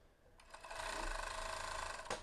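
Sewing machine running a single continuous burst of stitching as two lace edges of a robe are joined into one seam, a steady close mechanical whir lasting about a second and a half.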